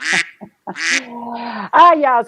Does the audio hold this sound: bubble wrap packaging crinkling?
no